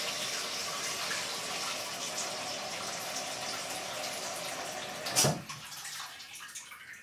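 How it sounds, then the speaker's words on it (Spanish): Water from a tap runs steadily into a pot to cover quinces for sugar-free quince paste, a soft continuous splashing that ends with a brief clatter and then tapers off. "vamos ahora a poner el agua para poder cubrir nuestra preparación"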